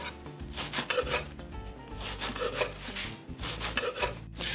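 A knife saws through bread, cutting slices to cube for bread pudding. The close, rhythmic scraping strokes repeat about once a second with no talk.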